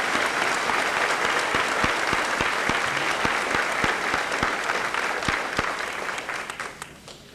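A high school senior assembly audience applauds steadily in a broad, even wash of clapping that holds for several seconds and then fades out.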